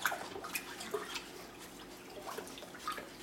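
Crushed Campden tablet mixture stirred into water for winemaking, a soft sloshing and swirling of liquid with a few faint drips, low and close, without talk.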